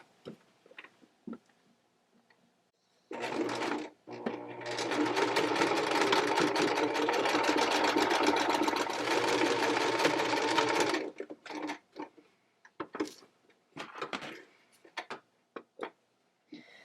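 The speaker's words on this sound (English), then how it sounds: "So I will stitch the bottom edge of the bag first, back stitching on both ends." A sewing machine stitches along the bottom edge of a fabric bag for a phone holder pillow in one continuous run of about eight seconds, a close, even mechanical chatter framed by short handling clicks and taps before and after.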